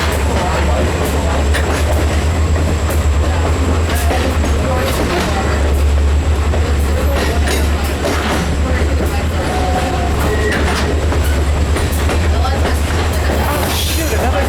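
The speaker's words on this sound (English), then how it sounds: "Good shot coming up with the train." A train rolls past on the Western Maryland line with a steady loud rumble and repeated clickety-clack of wheels on rail joints, plus a faint squeal near the end, heard from on board or close by.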